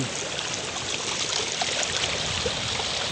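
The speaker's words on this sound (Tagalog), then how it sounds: "Ito po yung aming irrigation. Umapaw." Water spills over from a fishpond into an irrigation channel, making a steady close rushing and trickling flow that runs loud and unbroken with no talk.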